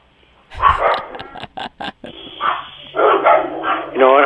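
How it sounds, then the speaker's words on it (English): Several dogs indoors bark in quick, loud bursts, the yips mixing with people talking nearby. "Yes, I have a few doggies here."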